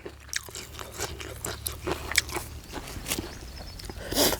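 Teeth crunch into a crisp chili pepper during a Thai meal, a run of close, crackly bites and chewing crunches in irregular bursts over a low background hum.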